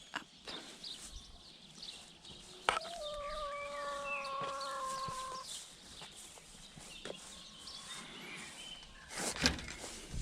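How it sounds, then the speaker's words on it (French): A rooster crows once, loud and fairly close, its drawn-out call rising over an outdoor farm morning backdrop with a few faint clucks from hens and scattered knocks. "Le coq me rappelle que c'est l'heure d'ouvrir à mes poules."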